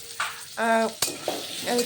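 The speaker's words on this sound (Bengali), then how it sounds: "যে আলুগুলো ডুমো ডুমো করে কেটে রেখেছি সেই আলুগুলো ভেজে নিতে হবে" Diced potatoes fry in a pan with a close crackling sizzle, broken by a few brief bursts of stirring and a sharp knock of utensil against pan.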